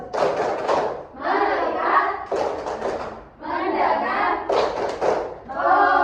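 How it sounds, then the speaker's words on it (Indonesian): A school class does a tepuk fokus routine, chanting together in short loud bursts punctuated by rhythmic claps and thuds, with brief pauses between each shouted phrase. "1, 2, 3, tepuk fokus."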